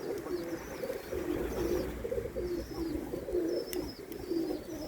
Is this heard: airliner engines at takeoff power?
no